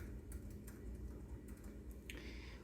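Soft, close keystrokes on a computer keyboard as a password is re-entered, a sparse handful of light clicks over a low room hum with no voices.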